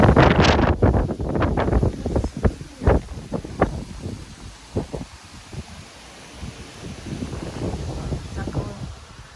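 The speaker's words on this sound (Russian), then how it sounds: "Ух ты, у нас такой ветер поднялся." Strong gusting wind buffets the microphone outdoors, heavy rumbling bursts that rise and fall, strongest at first and easing into a softer steady rush.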